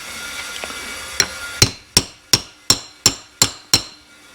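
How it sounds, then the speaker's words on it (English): Hammer blows drive a punch to spread a brake lining rivet on a Case 580C backhoe, with a light tap followed by six loud, sharp, evenly spaced metallic strikes, each ringing briefly. The strikes are close and there is no talk. "So then hopefully it spreads out the end of this rivet, and then the flat just kind of smushes it."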